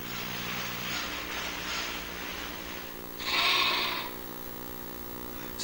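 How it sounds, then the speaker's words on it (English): Sheep on Scottish grazing land, one clear nearby bleat lasting about a second, rising above a steady low rumble of background hum. "Scotland is one vast grazing ground for sheep."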